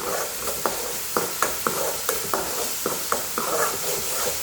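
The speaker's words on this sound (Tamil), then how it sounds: "சன்னா மசாலா போட்டு இப்போ வதக்கிக்கலாம்" Chana masala sautés in a pan with a steady sizzle, while a spatula stirs and taps the pan in regular, close, sharp strokes about twice a second, with no talking.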